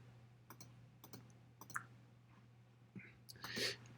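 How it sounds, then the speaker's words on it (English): Mouse clicks during a computer wargame of the Italy 1943 campaign, a scattered run of sharp, faint single and double clicks over a low steady hum, with a brief rustle near the end. "I'm clicking too fast here."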